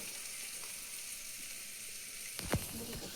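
Ground peanut powder is added to hot oil tempering for a cluster bean and drumstick curry cooked on a village wood-fired stove, giving a steady close sizzle with a brief scrape and clatter near the end.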